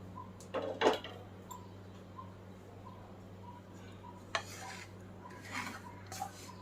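A lid comes off a covered pot of warm besan ladoo mixture with a couple of metallic clanks and scrapes, then more light clinks later over a low steady hum.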